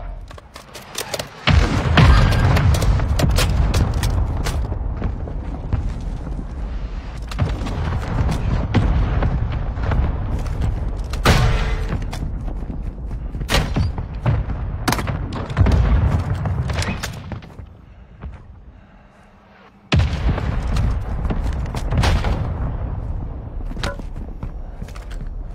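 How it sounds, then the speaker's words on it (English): Mortar strike explosions in a video game: a series of loud booms and thuds across the clip, mixed with gunfire, mechanical clatter and a short lull near the end. "Our mortar strike is inbound."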